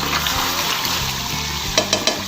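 Chicken cooking in chili masala for charsi karahi in a karahi, a continuous close sizzle with a few sharp utensil clinks near the end, no talking.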